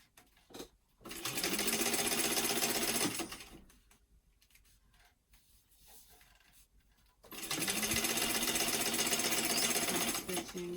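A sewing machine stitching a travel bag runs in two loud bursts of rapid, buzzing stitches, separated by a quieter pause with handling noises and faint sounds.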